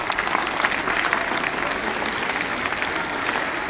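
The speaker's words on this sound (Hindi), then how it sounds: "जोरदार तालियां बजाओ इस बच्चे को।" Loud, steady applause from a classroom of students clapping for a classmate, dense and continuous throughout with no pauses.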